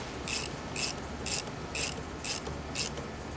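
Mounting nuts on a replacement side view mirror snugged down with a ratchet: six evenly spaced rasping clicks in a steady rhythm, close and moderately loud over a low background hum.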